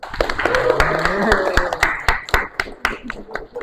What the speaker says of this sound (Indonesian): Tepuk tangan buat Rodio.